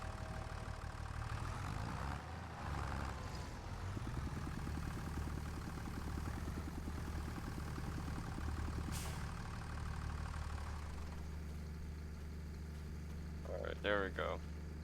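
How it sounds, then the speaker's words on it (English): A tractor engine idles in Farming Simulator 25 with a steady low rumble and mid-range throb, an even mechanical drone throughout, with a brief higher sound near the end. "They did a really good job with the sound effects for this tractor. It's one of the best sounding vehicles in the game."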